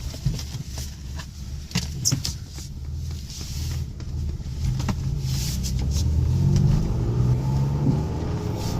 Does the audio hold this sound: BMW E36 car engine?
yes